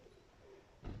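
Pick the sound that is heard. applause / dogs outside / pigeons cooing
pigeons cooing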